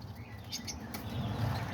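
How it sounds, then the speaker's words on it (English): Diamond doves in an aviary kept alongside cockatiels, budgies and lovebirds, with a soft fluttering of wings and faint high chirps over low background rumble, quiet and close. "Here's the diamond doves right here."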